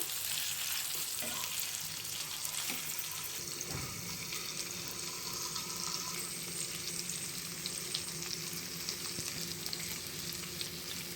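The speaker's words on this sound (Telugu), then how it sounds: "ఇప్పుడు రెండో వైపు కూడా బాగా ఫ్రై అయ్యేంత వరకు వండుకోవాలి" Chicken pieces fry in an open pan for a homemade shawarma, a steady loud sizzle running continuously with a few soft clinks and stirring knocks early on.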